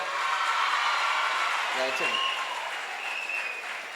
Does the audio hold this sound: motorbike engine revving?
no